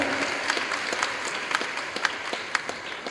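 A church congregation at a Tamil prayer service claps together in thick, continuous applause, a busy wash of hands with a few louder claps popping out.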